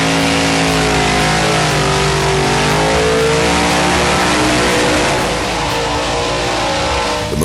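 A classic 1960s–70s American muscle car engine revs loud and close, a sustained throaty roar with rising and falling pitch and no speech over it.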